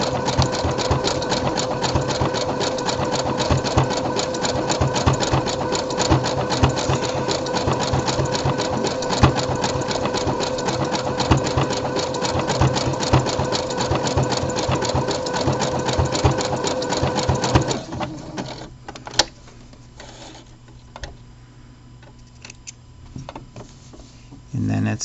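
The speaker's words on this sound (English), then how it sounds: "And then it's top stitched on top of the serge seam." Sewing machine top stitching over a serged seam, a steady, close, continuous motor hum with a rapid needle rhythm for about eighteen seconds, then stopping into quieter handling noise.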